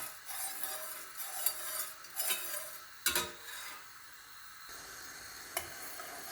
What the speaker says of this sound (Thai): กวนไปเรื่อยๆให้มันเดือด